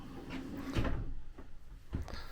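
A slow-closing drawer in a River Ranch 399RL RV, a soft sliding rumble ending in a gentle thud, followed by a couple of lighter knocks, close and fairly quiet.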